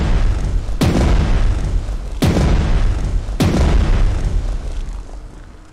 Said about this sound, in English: they will respond with artillery fire to support them